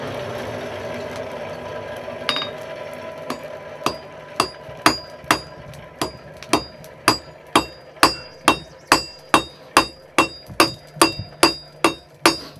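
A blacksmith forges a nail from hot iron at a farm, with evenly spaced ringing hammer blows that start sparse and settle into a steady rhythm of close, loud strikes.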